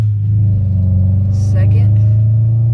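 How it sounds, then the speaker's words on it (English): A 2003 Honda Civic accelerates in first gear, its engine a loud steady low drone close by, with a voice briefly speaking over it. "Here we go in first,"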